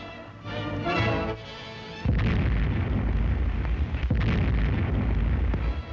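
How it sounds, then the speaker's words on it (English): Naval guns on an American warship open fire on a Nazi trawler off Shannon Island, Greenland, during WWII: a heavy boom at about two seconds, then sustained rumbling blasts and a second loud report, dense and close. "Off Shannon Island, the Nazi trawler is sighted and American guns cut loose."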